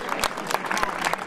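An audience applauding at a thank-you gathering, a moderate spread of clapping hands with uneven sharp claps, heard from within the room.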